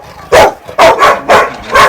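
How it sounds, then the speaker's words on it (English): A young mixed German Shepherd at a livestock and dog-breeding farm barks four times in a quick uneven series, loud and close, each bark short and sharp with brief gaps between. "As you can see, again we have a young mixed German Shepherd."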